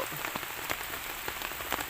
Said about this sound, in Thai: วันนี้ฝนตกตกพี่น้อง